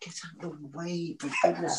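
A dog whimpers and yips indoors during a live interview, its brief whines overlapping someone speaking close by.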